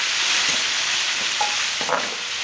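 Peeled tomatoes tipped into lightly browned onions in a pan for Hyderabadi tomato chutney, setting off a steady, close hiss of sizzling with a few faint stirring clinks and no voices.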